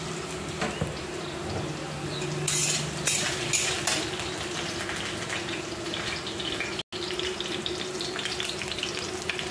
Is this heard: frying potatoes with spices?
yes